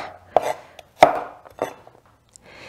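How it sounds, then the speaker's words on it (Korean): Garlic being sliced thickly with a knife on a board, with three distinct, fairly loud chops spaced apart and a few faint taps between them. "마늘은 통째로 굽기보다 한 두 번 정도 약간 도톰하게 썰어주세요"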